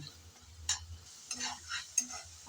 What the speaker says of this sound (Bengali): নেড়ে চেড়ে ভালোভাবে কষিয়ে নিলাম